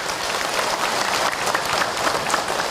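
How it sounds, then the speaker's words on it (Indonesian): An audience at an Islamic lecture gives a steady round of hand clapping, continuous and even with no speech over it. "boleh tepuk tangan untuk Ahil"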